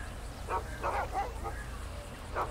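Dog barking on a beach in GTA 5, a few short barks spaced out at moderate distance over steady background game noise.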